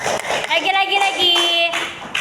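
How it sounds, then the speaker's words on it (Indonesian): A class of young schoolchildren clapping for a classmate, brief lively applause mixed with children's voices chanting and calling out over it. "Oke, tepuk tangan untuk Hafid."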